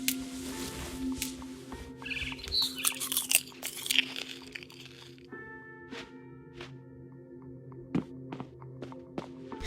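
Wet crunching and chewing of food in What Remains of Edith Finch, with bursts of biting and munching close up, followed by quieter scattered crunches and soft squishy thunks.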